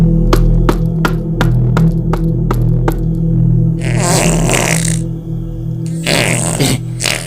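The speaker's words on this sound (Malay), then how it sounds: "Itu dah bunyi kentut tu kan?" A loud, buzzing, sputtering fart bursts out twice after a series of sharp knocks, with a steady low hum running underneath throughout.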